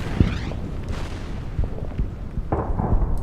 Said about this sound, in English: So what I'm gonna hit is these guys with artillery.